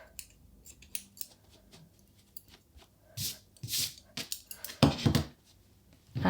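Scissors snip the yarn ends off a crocheted strawberry plush, first with light clicks and then with a few louder, crisp close cuts.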